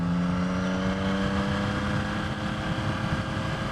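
A 2023 Yamaha XSR 900 motorcycle pulls steadily in second gear, its engine a loud, close drone that climbs in pitch, with heavy wind rush over the microphone.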